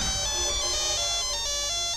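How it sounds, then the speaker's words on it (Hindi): A mobile phone alarm-style ringtone plays in a Hindi film scene, a steady, loud electronic tone sounding continuously with no talking over it. "नेहा, तुम्हारा फोन।"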